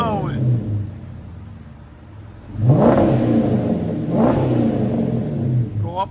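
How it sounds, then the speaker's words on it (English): A 2014 Dodge Charger R/T with a 5.7L HEMI V8 and Magnaflow exhaust idles quietly, then revs twice in deep rising blasts that fall back; a person talks over the low rumble. "Then you give it gas. Opens up, so you can creep if you need to, or without people knowing."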